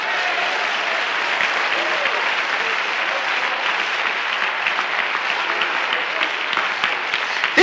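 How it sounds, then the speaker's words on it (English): A church congregation claps hands during a sermon on the grace of God, a continuous crowd of claps with steady intensity throughout, occasional faint voices mixed into the dense clapping. "Clap your hands unto the Lord."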